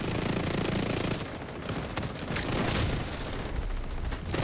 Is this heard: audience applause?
no